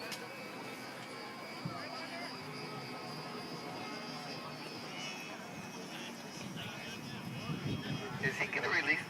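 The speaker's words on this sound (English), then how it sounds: "This flying a C-47 out there. Twin electric power, 2 motors." Model C-47 airplane powered by twin electric motors flying at an outdoor model airplane show, a faint steady whine and drone in the distance under crowd noise, growing a little louder toward the end.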